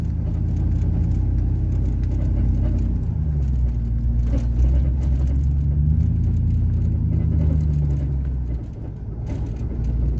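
A pickup truck rolls along a dirt road, its low engine rumble steady and close throughout, with faint bumps and rattles from the rough surface and no voices.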